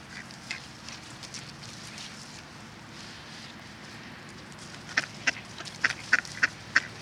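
Ducks quacking while being fed bread outdoors, a few scattered quacks early, then a burst of repeated loud quacks near the end over a low ambient rumble.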